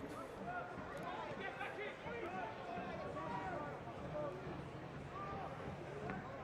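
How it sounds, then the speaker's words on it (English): Steady crowd murmur and chatter fill a soccer stadium at night during a Lexington SC v Oakland Roots SC match, a dense, continuous hubbub of many distant voices with no single standout shout. "So the crowd, really nice atmosphere tonight"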